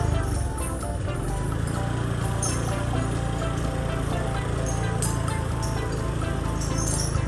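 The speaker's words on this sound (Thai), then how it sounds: "ขออภัยในความเสียงรถดังหน่อยนะคะ" Loud, steady vehicle engine drone runs near and constant throughout, with a rattling mechanical texture and no pause, heard outdoors beside a large elephant on a Thai roadside.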